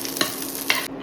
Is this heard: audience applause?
no